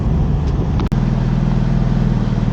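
A Porsche Spyder RS engine idles steadily with a low, even drone close by, cut by a brief dropout partway through and then settling into a deeper, steadier hum.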